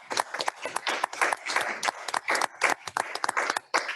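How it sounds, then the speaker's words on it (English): Birthday applause for a man at a city council meeting, a modest room of people clapping in brisk uneven bursts, close and lively for a few seconds. "let's give him a round of applause."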